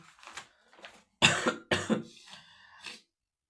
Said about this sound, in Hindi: खांसी है यार